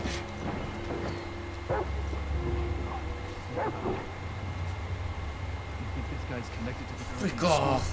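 A dog in The Last of Us Part II barks and yips in short, scattered bursts at moderate distance. Game ambience runs underneath, and people talk over it.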